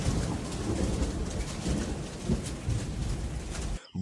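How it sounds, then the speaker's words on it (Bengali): A violent night thunderstorm with lightning, howling wind and breaking trees brings dense, steady rain that roars loudly, with low rumbling thunder underneath. The storm cuts off abruptly near the end. "আকাশে একের পর এক বজ্রপাত, হু হু করে বইছে বাতাস, চারদিকে শুধু গাছ ভাঙার শব্দ।"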